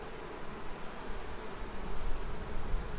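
Honeybees drone steadily in an open hive during an inspection where torn-open queen cells are found, a dense, close, continuous buzz that swells slightly toward the end with no talk over it.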